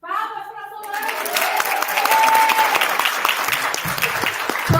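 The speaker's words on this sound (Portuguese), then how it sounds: "Palmas para Solange!" Applause for a volunteer named Solange at a leadership talk during a secretaries' expo, breaking out after about a second of speech and swelling into steady, dense clapping from an audience, with voices over it at the start.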